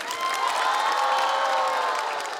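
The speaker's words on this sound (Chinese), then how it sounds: "感谢大家的掌声啊" A stand-up comedy audience breaks into sustained applause mixed with cheers and whoops, a dense, even wash of crowd noise with no one speaking.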